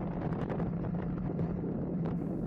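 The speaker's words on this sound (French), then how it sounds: "À ce moment-là, le vent il vient de la gauche" Strong wind roars across the microphone of a cyclist riding in a road race, a constant loud rumbling buffet with fluttering gusts throughout and no talking.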